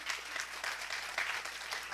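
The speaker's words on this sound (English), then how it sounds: "give these people a round of applause" Applause from a real estate masterclass audience, brief and fairly faint, with clustered claps rising and falling over about two seconds.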